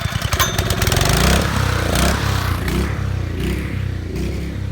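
A small gas engine on a pressure washer starts with a clattering pull and then runs rough and loud, its sputtering idle steady but uneven throughout.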